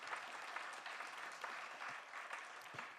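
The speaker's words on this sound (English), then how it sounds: "Yeah, you could applaud for that, for sure" Steady, fairly quiet applause fills a luncheon hall as the audience claps for a cancer survivor's story, continuous and even, with no speech over it.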